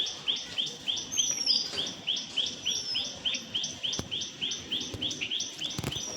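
Birds chirp in a rural village yard on a hot day, giving a steady, rhythmic run of bright, repeated calls at moderate distance with no talking.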